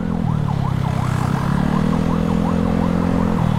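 An ambulance siren wails in a steady, repeating rising-and-falling pattern as it passes during a night ride on a Honda Scoopy scooter in Makassar, loud and close over constant road and engine rumble.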